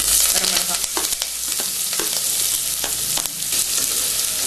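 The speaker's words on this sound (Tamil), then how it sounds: "முந்திரி ஃப்ரை ஆயிடுச்சு இப்போ வந்து வெங்காயம் பெரிய வெங்காயம் ஒன்று கருவேப்பிலை" Sliced big onion and curry leaves sizzle steadily in hot oil with fried cashews in a pan for mint rice, with a continuous close crackle and a few scraping stirs along the way.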